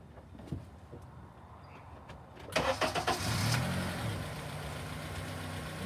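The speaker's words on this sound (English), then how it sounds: "I will start the car." Honda car engine starting in a quiet setting: a few faint clicks first, then the starter cranks in quick pulses and the engine catches into a steady, moderately loud idle.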